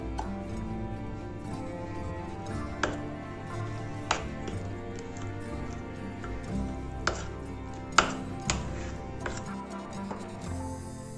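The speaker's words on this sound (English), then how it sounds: "First I am mixing rice flour." Rice flour and grated coconut are mixed in a bowl for jackfruit rice cakes, with soft rhythmic taps and scrapes at an unhurried pace over a steady low hum, close and faint.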